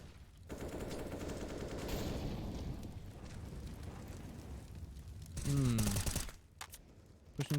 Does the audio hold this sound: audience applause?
no